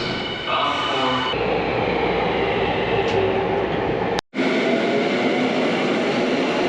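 A Tokyo Metro Hanzomon Line train bound from Oshiage pulls into an underground platform, its loud, steady rumble and rolling wheel noise filling the station with a brief dropout partway through.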